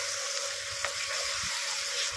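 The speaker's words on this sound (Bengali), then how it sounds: "মশলাটা ভালো করে যাতে ভাজা হয়" Mixed spices for a drumstick curry frying in a pan with a little added water, giving a steady, close, continuous sizzle and hiss with occasional faint clicks, no voices.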